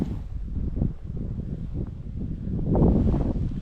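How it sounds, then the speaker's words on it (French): Wind buffets and rushes across the microphone in uneven gusts at a reservoir lakeshore, swelling louder toward the end. "Là on a le vent qui se lève, qui pousse vraiment plus fort que tout à l'heure"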